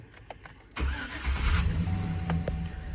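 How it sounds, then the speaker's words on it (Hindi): A GMC Silverado engine cranks and catches after a short quiet pause with faint clicks, then settles into a steady idle that rumbles up close for the rest of the clip. "तो आप गाड़ी को मैं स्टार्ट करता हूँ।"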